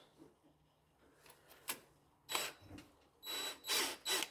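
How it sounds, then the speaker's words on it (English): A power drill running in reverse, removing a broken grease fitting from a Yamaha Raptor ATV, whirs in short, intermittent bursts, faint at first and then louder near the end, with scraping and handling noises between runs. "Then put the drill in reverse."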